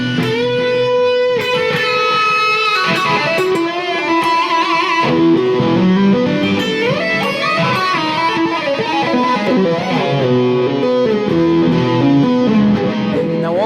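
An electric guitar runs through a light distortion boost pedal, playing a loud, sustained lead line with bends and held notes, alone and with no talk.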